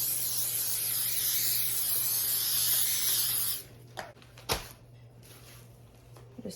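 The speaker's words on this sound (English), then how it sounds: "My poor little pan, just greasing her up." Steady, close hiss of cooking spray greasing a pan runs for several seconds and then cuts off, followed by a couple of faint clinks and light handling sounds.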